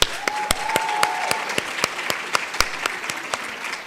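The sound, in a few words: audience applause for Lebanon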